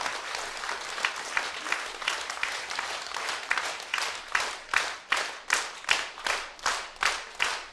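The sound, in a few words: audience applause for an accordion player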